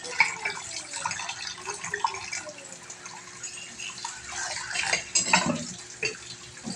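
A child spooning and splashing water, soft irregular drips, trickles and clinks close by, fairly quiet with no talking.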